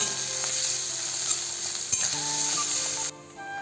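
Ginger garlic paste being stirred into browned fried onions in a hot pan, a continuous close sizzle with occasional spatula scrapes, dropping off abruptly near the end, no voices.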